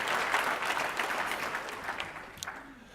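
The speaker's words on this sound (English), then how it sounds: "We'll clap for that." An audience at a school recognition event breaks into warm applause, a dense, steady wash of clapping that gradually thins out and fades.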